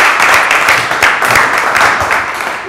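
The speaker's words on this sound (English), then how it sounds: "Let's give Chris a round of applause for putting this together today" An audience at a Cincinnati web tech conference talk gives a short burst of close, dense clapping that tapers off slightly.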